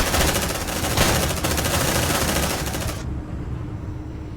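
Suppressive gunfire in Aliens: Dark Descent, a loud, rapid automatic burst with evenly spaced shots that stops abruptly after about three seconds, leaving a quieter rumbling tail.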